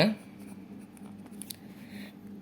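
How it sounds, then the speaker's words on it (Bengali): Writing on paper or a board while solving a class 9–10 math exercise, a faint scratchy scribble under a person's talking voice. "আবার এখানে লিখবো দেওয়া আছে"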